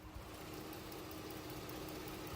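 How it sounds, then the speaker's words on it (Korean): Smooth, steady gasoline engine idle of a 2016 full-size sedan, heard up close with the hood open, an even low hum with a faint mechanical tick and no other sounds. "지금 바로 엔진 소리 한번 자세하게 들려드릴게요"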